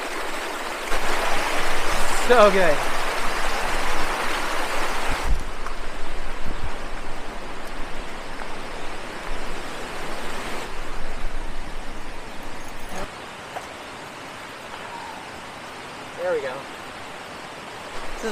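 A small, clear mountain creek current at Graves Creek Falls in Thompson Falls, Montana, a steady rushing wash of water close by, louder early on and softer later, with a person briefly talking over it.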